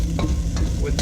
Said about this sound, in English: Now we're going to just stir this to mix it and get those rice kernels coated with